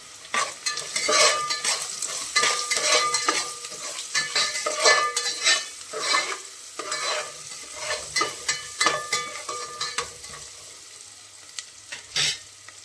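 Chicken fry being stirred in a pan just after salt goes in, a spatula scraping and clinking repeatedly over steady oil sizzle, close and fairly loud with irregular bursts of stirring strokes.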